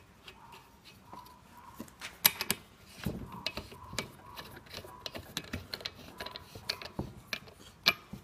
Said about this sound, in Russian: Ставим шкив и закручиваем гайку.